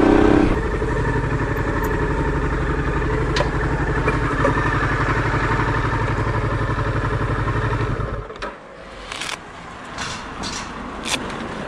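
Honda Transalp 650 motorcycle on an everyday ride, its steady engine drone and road rumble running loud and continuous for about eight seconds before easing off to a quieter, fluctuating idle with brief clatters.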